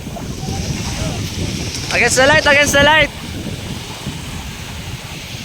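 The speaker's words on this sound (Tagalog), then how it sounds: "tapos ang lakas ng alon" Strong ocean waves break on a resort beach in Zambales at sunset while wind blows across the microphone, a steady broadband wash throughout, with a person speaking loudly over it for about a second.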